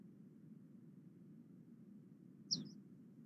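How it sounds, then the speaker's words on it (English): A leaf warbler call from a recording heard in India: a single short, high chirp over a steady low hum, faint and brief. "They repeat the call a lot more often than other leaf warblers."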